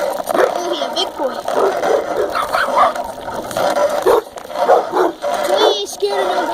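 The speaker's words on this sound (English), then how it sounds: "This doggy over here wants to fight." A large dog barks and yelps at a passing bicycle on a street ride, several short barks and whimpers in quick bursts close by, mixed with road and riding noise.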